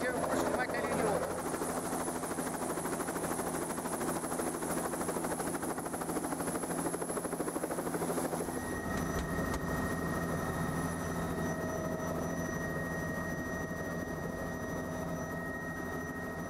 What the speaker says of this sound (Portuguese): aqui no heliponto, prestes a entrar no helicóptero